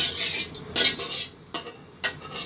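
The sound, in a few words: stirring cumin seeds in hot oil in a wok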